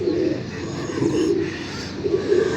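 Pigeons coo steadily and close by, a low continuous throaty rolling with slight swells across the whole stretch, set among a hobbyist's pigeon loft where a pair has just been placed together.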